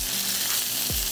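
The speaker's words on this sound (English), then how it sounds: "That's the sizzle we want to hear." Duck laid skin side down in a hot pan sizzles steadily, a continuous close-up hiss of frying fat with no talking.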